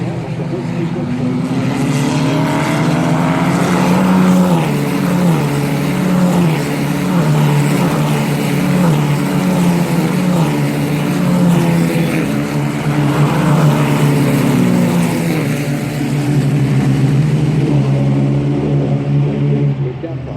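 Racing cars lapping the Nogaro circuit, a continuous loud engine drone with shifting pitch, heard under a commentator talking throughout.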